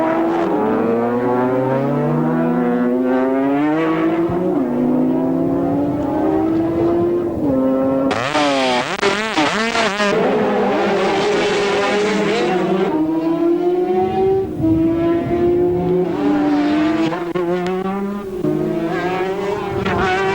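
Several racing car engines, some water-cooled, roar and whine continuously at the 1982 Scottish Championship race in Banff, pitches rising and falling as they rev, with a louder burst of high, raspy engine noise midway.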